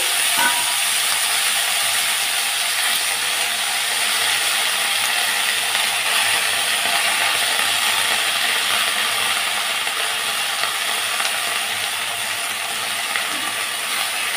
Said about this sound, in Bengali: এবারে আমি তেলের উপর এই যে শাকগুলোকে দিয়ে দিচ্ছি।